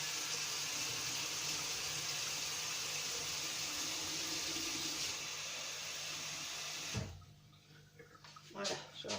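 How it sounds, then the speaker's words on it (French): Hot water being poured into a Compact Cook Pro steam cooker while steaming sea bream, a steady continuous rush of running water that stops abruptly near the end, followed by a few light clatters. "Mettre de l'eau chaude."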